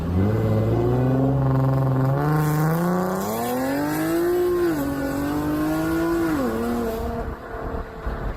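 Nissan 350Z or Infiniti G35 with mufflers removed, its raspy exhaust droning loud and close as the revs climb, waver and settle in one long pull with no voices.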